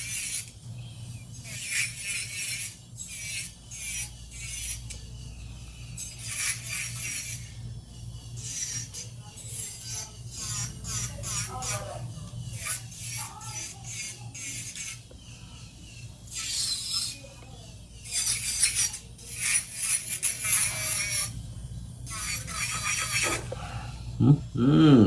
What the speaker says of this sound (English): just use your drill bit, hand file, whatever I do, and just drill it down a little bit